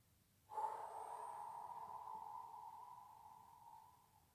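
A long, steady exhale during a yoga breathing exercise, a soft airy rush that starts abruptly and fades slowly over about four seconds, close and quiet with no talking.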